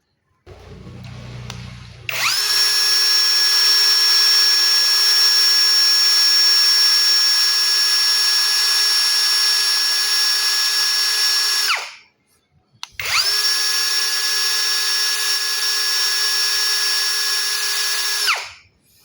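A brushless cordless drill runs at high speed in two long bursts, a loud steady whine with a strong tonal hum held for about ten seconds, a brief stop, then another five seconds before winding down.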